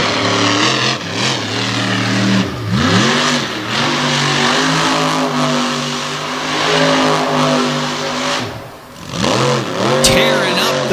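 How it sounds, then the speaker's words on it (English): A big 557 cubic inch Jeep engine from a metal shop build revs and rumbles loudly and continuously, with rising and falling pitch sweeps, at an off-road event at the foot of the Poconos. "that big 557 cubic inch motor rumbling here at the foot of the Poconos"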